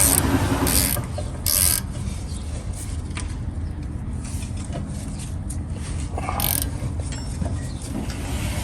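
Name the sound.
ratchet tightening brake bolt on Honda Accord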